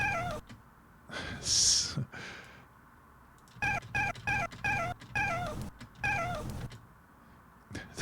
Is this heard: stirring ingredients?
no